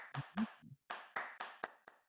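Hand clapping in a virtual meeting space at a Bitcoin conference broadcast, about nine sharp separate claps in an uneven rhythm with a short pause after the first few, close and fairly quiet.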